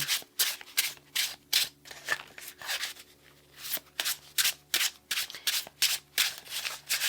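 Tarot cards shuffled by hand, a repeated series of crisp riffling bursts in an uneven rhythm, close and fairly quiet, with no talking.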